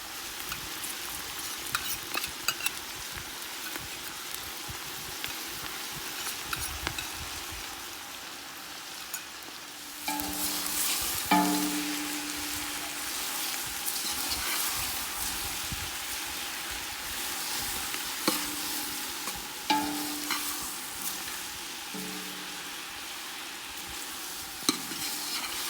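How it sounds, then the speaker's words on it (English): Ginger garlic paste frying with mutton in a pot for a goat curry, a steady crackling sizzle with repeated scraping and clanking as it is stirred, close and without talk. "Now we're adding in 1 cup of ginger garlic paste."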